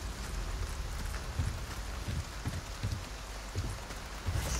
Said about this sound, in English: The raining weather.